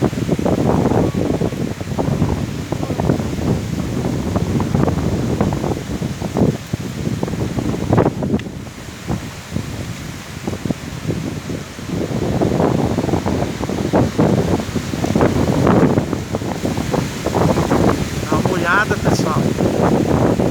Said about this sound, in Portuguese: como ele aguenta a pressão do vento.